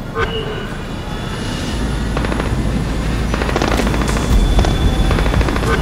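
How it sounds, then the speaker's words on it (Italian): Aircraft engines warming up on a Yucatán, Mexico landing strip in the Splinter Cell Blacklist video game: a steady, loud, rising engine drone throughout, mixed with game effects and distant bursts like gunfire. "Riscaldamento motori."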